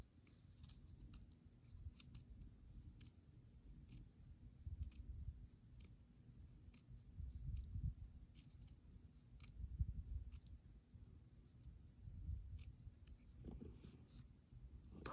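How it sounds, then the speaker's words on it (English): Scissors snip through excess UltraSuede on a bead embroidery comet earring, making a long run of faint, close, irregular crisp clicks and cuts with soft rustling under them. "we're just gonna cut this excess UltraSuede off."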